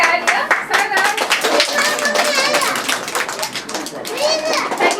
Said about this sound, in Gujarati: બધા માટે તાળીઓ.